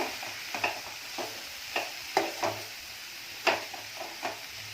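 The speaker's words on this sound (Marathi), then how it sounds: "आता कोबी घालून घेणार आहे थोडी ढवळून घ्यायची आहे" Shredded cabbage is stirred in a pan on a low flame, giving a series of scraping, clattering spoon strokes at an irregular pace over a soft, steady sizzle.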